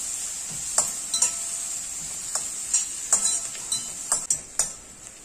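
Sliced onions frying with turmeric in a pan: a soft, steady sizzle sits underneath, and about a dozen sharp spatula taps and scrapes land against the pan at uneven intervals, close and fairly quiet.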